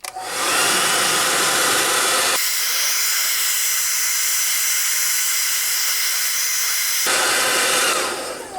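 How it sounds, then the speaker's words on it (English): Standard hair dryer blowing hot air onto the rubber boot of an Ingersoll Rand W5150 impact wrench, a loud steady whooshing hiss that shifts to a thinner, higher-pitched setting midway, then back, with no talking. "You'll just take the boot and a standard hair dryer,"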